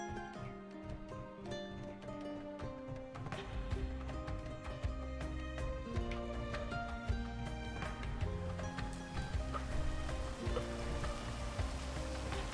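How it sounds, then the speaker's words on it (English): Rain falls in the video game Space Engineers as a steady patter, heard beneath a loud, continuous layer of melodic music with prominent sustained tones throughout. "Oh, Raining."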